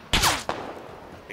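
Gunfire in the military shooter game Squad: two sharp, loud shots close together near the start, followed by a fading tail and quiet background, with no talk.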